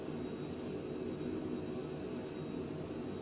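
A Mustang airplane in the MSFS 2020 flight simulator drones at altitude, its engine a steady, faint, broad roar with no break and no voices.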